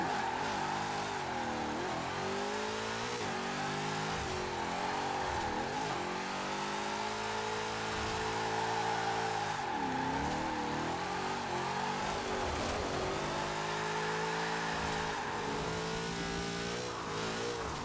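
A Ford Mustang Fastback drifting on a wet track in Forza Horizon 4, its engine revving hard and steadily throughout, the pitch rising and falling with throttle blips, loud and continuous with no talk.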